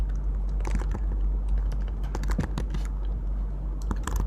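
Keys clatter on a computer keyboard as JavaScript code is typed, a fast, uneven run of close clicks with brief pauses over a steady low hum, no voices.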